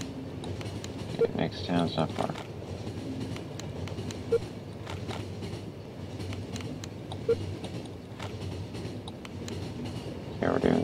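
Steady rumbling train ride in The Final Station video game, with a continuous rolling clatter and occasional soft knocks, heard close and even throughout.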